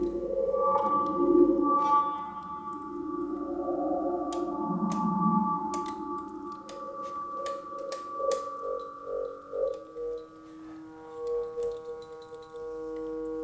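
Filtered noise-generator output from test equipment patched as a synth, producing sweeping tones, pulsing bursts and sustained filtered hums that shift and warble, standing alone without talk.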